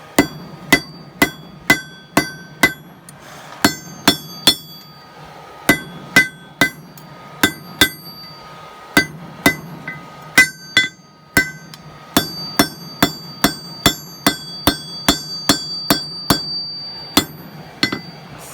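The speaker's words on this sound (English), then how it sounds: "it's because you're hammering while it's cold" A knife blade is hammered on an anvil during coal forging. Sharp metallic ringing strikes land in steady bursts of several blows, with short pauses between groups, loud and close.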